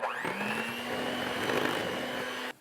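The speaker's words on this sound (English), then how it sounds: "Lemon zest is in. We're gonna mix one more time." An electric mixer beats lemon cupcake batter with lemon zest stirred in. Its loud, steady motor whine starts just after the opening, holds evenly, then cuts off abruptly near the end.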